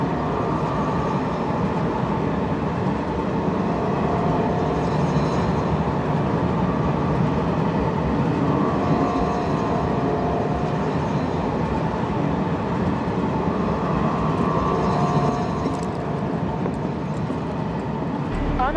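A train runs through a tunnel in Final Fantasy VII Remake, giving a continuous, loud rumble and rattle across the whole clip. A synthetic announcement voice speaks over it.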